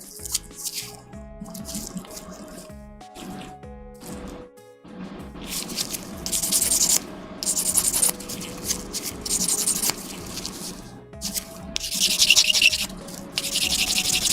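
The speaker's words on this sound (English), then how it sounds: "And now it looks weird when I sand away the surfacer." Surfacer is sanded on a Gunpla model kit, heard as close, dry, scratchy rubbing strokes in irregular bursts that grow louder and denser partway through, with quiet gaps between passes.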